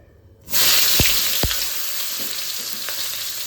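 Eggplant frying in hot oil left over from cooking anchovies, a loud steady sizzle that starts abruptly as the pieces go in, with a couple of sharp crackles early on and continuous bubbling hiss throughout.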